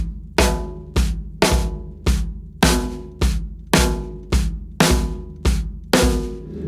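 Bass drum and snare struck slightly out of unison so each hit flams; a steady run of about eleven loud, close doubled hits repeats evenly with no voices.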